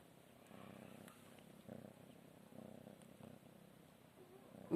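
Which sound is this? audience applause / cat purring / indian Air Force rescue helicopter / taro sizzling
cat purring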